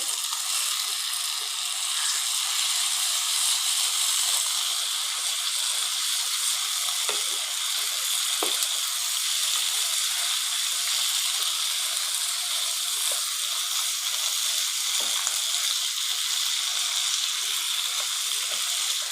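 Lucknow-style nihari sizzles in oil in a pan while chopped coriander is mixed in. A steady, close hiss runs throughout, broken by scattered small scraping clicks, with no voices.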